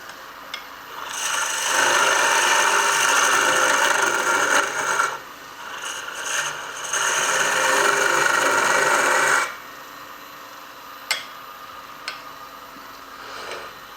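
Wood lathe cutting a spinning top, a rasping, hissing whine of the tool against the spinning wood in two long sustained passes, separated by short pauses, then a quieter idle hum with a few sharp clicks.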